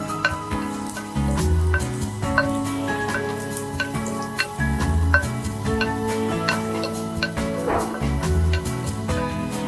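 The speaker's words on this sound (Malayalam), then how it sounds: "ഇത്രയും കടുക് പൊട്ടിക്കുന്ന സ്റ്റേജ് ആയിരുന്നു" Mustard seeds, sliced shallots and split dried chillies sizzle and crackle in hot oil in a pan, with a steady close hiss broken by many sharp pops throughout, alongside a tonal musical background.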